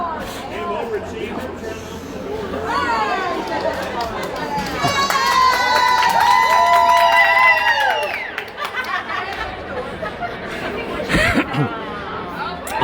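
A hockey arena crowd at a Cincinnati Lancers versus Owensboro game rises into a loud mass of cheering and shouting, swelling in the middle and falling back to chatter, with nearby voices talking throughout.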